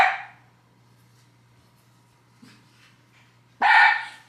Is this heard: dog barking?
yes